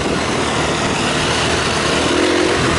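A dirt bike climbs an uphill trail after a thunderstorm in low gear, its engine chugging steadily and loudly the whole time with a continuous broadband drone and no speech.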